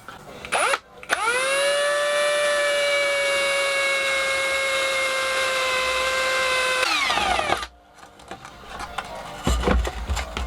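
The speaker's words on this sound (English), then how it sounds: "just drill a hole in the casing" A power drill whines steadily at high pitch for several seconds while drilling a hole in the plastic casing of a Ryobi charger, then cuts off, followed by brief handling clatter.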